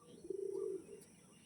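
A single soft pigeon coo, brief and faint, rising and falling over about half a second against quiet background hiss.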